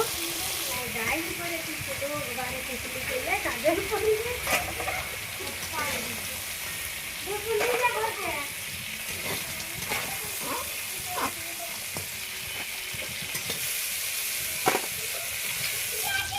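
Crab frying in hot oil gives a steady sizzle and hiss, with stirring scrapes and scattered crackles running through. Speech is faintly present.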